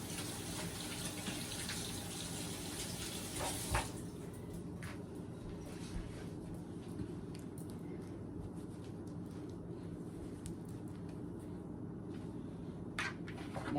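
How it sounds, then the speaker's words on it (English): A kitchen tap gushes loudly for about four seconds as hands are rinsed during home dinner cooking, then the sound drops to a softer, lingering trickle and room hum. "let me rinse my hands off"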